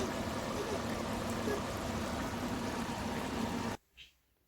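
Chicken boiling in a pot of water for biryani, a steady bubbling and rolling simmer heard up close that cuts off abruptly near the end.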